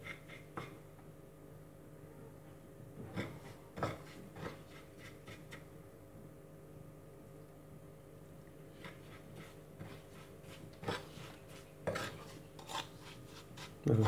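Crushed eggshells soaked with apple cider vinegar are stirred in a container, giving repeated close scraping and clinking strokes in irregular bursts over a quiet background.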